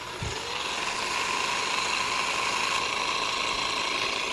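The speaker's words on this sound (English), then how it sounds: "Now, Theragun has two speeds." A Theragun G3 massage gun runs at its second speed, a steady, continuous motorized buzz with a high whine, close and constant throughout without talking.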